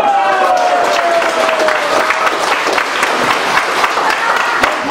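Audience at a political rally applauds in a dense, steady wash of clapping that lasts throughout, with a voice faintly audible over it.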